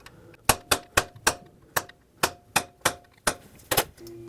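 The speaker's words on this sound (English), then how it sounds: "I'm going to try and take a punch and shock the stud." Ten sharp metallic hammer strikes ring out at a steady rhythm as a punch is driven against a rusted stud in the thermostat housing of a 1998-2011 Ford Ranger 4.0L V6, each blow decaying quickly.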